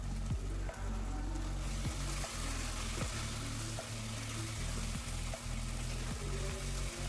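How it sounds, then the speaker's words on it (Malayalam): Chicken chukka with curry leaves fries on a high flame as a loud, continuous sizzle, with regular low knocks of stirring scattered throughout. "ഹൈ ഫ്ലെയിമിലാണ് ഇട്ടിട്ടുള്ളത് കുറച്ച് കറിവേപ്പിലൂടെ ഇട്ട് കൊടുക്കാം"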